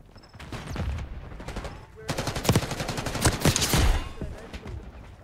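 Rapid bursts of gunfire in the multiplayer shooter Black Ops 6, loud close shots in quick dense strings with a brief pause before a heavier, sustained volley.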